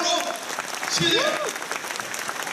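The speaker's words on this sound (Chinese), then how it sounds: "好，看到了，大家为他们鼓掌。" An audience applauds veterans at a commemorative address, a dense wash of clapping from a large crowd, with a voice briefly heard over it.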